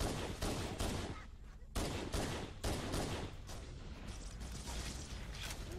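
Halo: Combat Evolved sniper rifle fire cracks out in a handful of loud, spaced shots, each followed by a short ringing tail, amid ongoing game noise.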